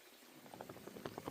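Creek water runs through a gold prospecting sluice in North Idaho in November, a faint, brief burbling and splashing patter that grows slightly busier as it goes.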